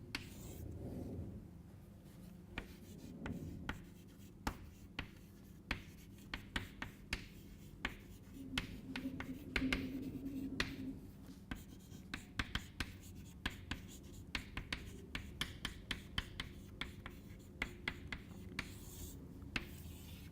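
Chalk or marker writes a table on a board during a mathematics lecture, producing a long run of quiet, irregular taps and short scratchy strokes over faint room tone, with no talking.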